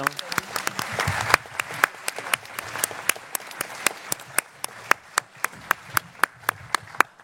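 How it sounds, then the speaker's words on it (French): An audience bursts into dense applause for a departing speaker, then settles into slower, rhythmic unison clapping, loud and close, with some talk mixed in. "Vous pensez pas qu'on peut l'applaudir quand il s'en va?"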